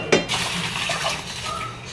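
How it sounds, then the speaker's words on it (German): Cold water from two glasses is poured into a cooking pot, opening with a quick clink and then a short, close splashing pour. "jetzt kommen 2 Gläser Wasser, kaltes Wasser erstmal hier rein."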